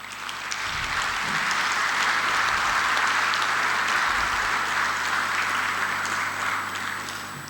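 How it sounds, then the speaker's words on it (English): Sustained applause from delegates at a SADC Council of Ministers meeting, welcoming the new chairperson, a dense steady clapping that fills the room evenly for the whole stretch without voices. "request the member states to welcome the new chairperson by applauding"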